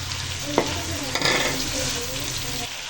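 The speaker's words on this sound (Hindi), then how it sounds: "15 मिनट फ्राई करना है ताकि इसका बहुत ही खूबसूरत सा अच्छा सा गोल्डन ब्राउन कलर आ जाए" Steady sizzling of chicken frying in a pan with cardamom, with a couple of sharp clinks and stirring scrapes partway through, no voices.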